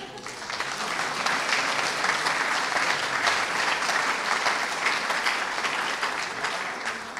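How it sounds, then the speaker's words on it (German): Applause from the audience at an academic ceremony for a national day celebration, a sustained even wash of many hands clapping that fills the whole stretch without letting up. "du hast einfach einen Applaus verdient."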